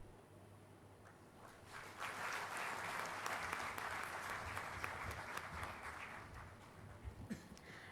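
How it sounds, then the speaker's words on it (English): An audience claps steadily after a speech at a 2022 AIBT graduation ceremony. The dense applause swells in after a quiet moment, holds evenly for several seconds, then thins out near the end. "Shall we all give a good round of applause for that address?"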